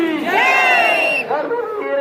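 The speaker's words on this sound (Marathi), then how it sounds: "चला जय श्रीराम म्हणायचं का" A large crowd of pilgrims at the Pandharpur Wari shouts devotional slogans in unison, loud, close, ringing voices rising and falling across two seconds.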